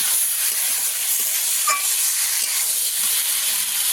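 Cumin paste frying with vegetables in a pan, a steady close, bright sizzle running throughout with faint stirring scrapes and no talk.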